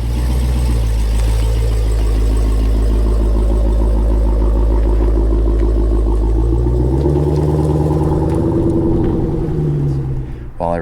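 Dodge Scat Pack with aftermarket parts pulling out of a driveway: loud, deep engine rumble idling then rising in pitch as it moves off, ending with a short squeak.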